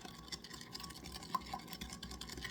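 Sugar being stirred into a bread starter feed: a faint, steady scraping swirl of a spoon in a container, close and low, with no talking.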